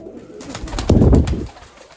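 Pigeons in a dovecote, including a black-speckled, black-tailed Poltava-type bird, give soft cooing calls that swell to a louder, close coo in the middle amid faint rustling, with no talking.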